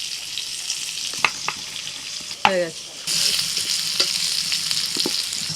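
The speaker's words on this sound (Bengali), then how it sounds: "ওই তেলেতেই দিয়ে দিচ্ছি আলু, একটু হলুদ গুঁড়ো আর একটু লবণ" Potato pieces with turmeric and salt fry in hot oil with a steady, close sizzle, broken by a few sharp utensil clinks and a brief spoken word.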